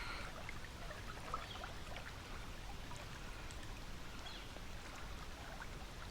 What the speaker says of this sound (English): I love hearing the sound of the water, kind of lapping along the shore.